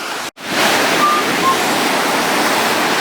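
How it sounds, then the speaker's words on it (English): Hurricane Dorian surf pounds the shore with wind roaring across it, a loud, broad, unbroken wash after a brief dropout at the start. "We're down by the shore now, and waves are coming in pretty good."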